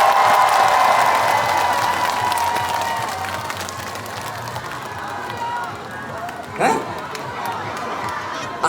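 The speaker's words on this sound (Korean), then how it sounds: "큰 박수 한번 주시겠어요?" An audience at an outdoor fireworks festival concert in Gijang breaks into loud applause and cheering that eases into steady clapping, with a brief whoop near the end.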